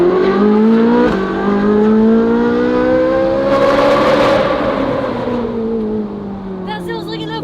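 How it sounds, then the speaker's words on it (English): A Ferrari fitted with an F1-style exhaust revs hard, rising to a shrill, screaming wail with gear changes and a rasping peak before easing off. Voices talk under the engine noise. "That sounds like an F1 car."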